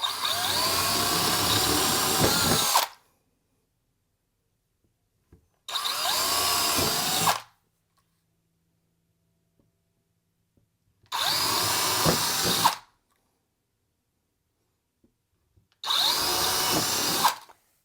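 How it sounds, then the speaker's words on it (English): A 3/8 drill bores through holes in an Arcade1up X-Men arcade cabinet with painter's tape on the surface, four loud, close bursts of whining drilling of a few seconds each, separated by silent pauses. "So it's a 3/8 drill. We're gonna go right through the holes."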